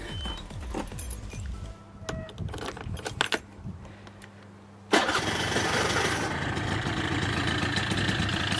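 A Suzuki Address V100 scooter is started: keys jangle and rattle close by, then the small engine catches abruptly and settles into a loud, steady idle that continues to the end.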